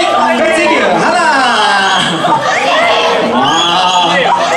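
Lively crowd at a Cantonese New Year variety concert cheering and shouting continuously, a dense wash of excited voices and calls filling the whole stretch with a brief dip midway.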